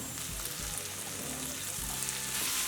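Chopped onions and tomatoes fry in a pan with a dense, even hiss of sizzling oil, broad and continuous at close range, with faint low knocks underneath and no speech.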